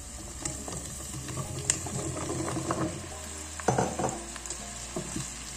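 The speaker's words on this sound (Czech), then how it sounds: "Lehce osmažíme." Pumpkin pieces sizzle and fry with golden onions in a pan, a steady close sizzle broken by scraping stirs and a few louder clacks of a utensil against the pan.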